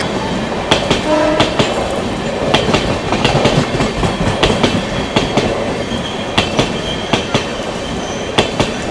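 A Veraval–Bandra express train passes close by, its wheels giving a steady run of sharp clickety-clack rail-joint beats over a broad continuous roll of carriage noise.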